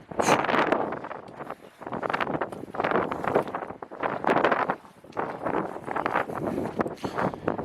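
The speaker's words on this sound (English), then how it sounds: "It is windy, boy." Strong gusts on the slopes of Vesuvius buffet the microphone in long roaring surges with brief lulls between, loud and close with no other sound standing out.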